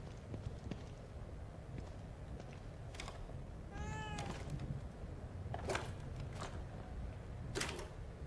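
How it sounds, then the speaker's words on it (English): A cat in The Evil Within 2 gives a meow amid a dim game ambience, with several sharp clicks and knocks scattered through the background. "I don't ever remember owning a cat."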